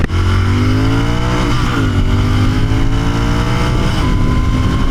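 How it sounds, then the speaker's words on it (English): A Royal Enfield Continental GT 650's air-cooled 650cc parallel-twin engine accelerates loudly and steadily close by on a highway, its pitch climbing through gear changes with a brief dip before rising again. "650cc air-cooled parallel twin is silky to ride."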